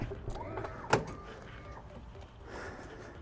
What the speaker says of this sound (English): Okay, I'm going to open the door now.